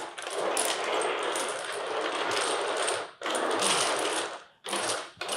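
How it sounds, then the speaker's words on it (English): Dominoes being washed on a table, a continuous loud clattering rattle of tiles sliding and knocking together, broken by two brief pauses near the end. "she's gonna wash the dominoes"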